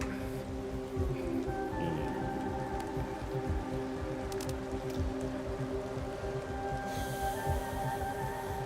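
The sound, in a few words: rain falling in the video game Planet Crafter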